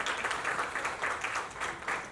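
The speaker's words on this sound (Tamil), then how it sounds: "பலத்த கரகோஷத்தோட" Audience applause welcoming the launch of a foundation at an award event, a moderate, steady wash of many hands clapping, fairly distant, with no voices on top.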